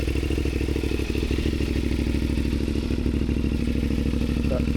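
A CFMOTO 450MT motorcycle fitted with an inexpensive full-system aftermarket exhaust idles steadily, a loud, even low-pitched pulsing rumble holding constant throughout without revving.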